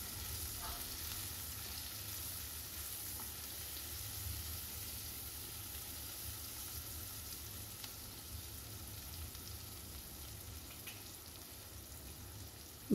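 Sardines frying in oil with turmeric and salt sizzle steadily in a pan over medium heat, a constant close hiss with faint occasional stirring, and no speech over it.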